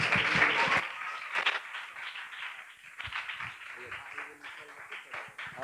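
A church prayer-meeting audience claps to welcome speakers, mixed with voices and crowd noise, with a denser burst of clapping at the start, and speech continues over the moderate applause.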